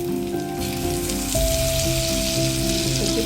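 Stuffed bitter gourds sizzle in hot oil in a pan, an Assamese home-style dish. The frying sounds as a steady, loud, close crackle and hiss that continues unbroken from start to finish.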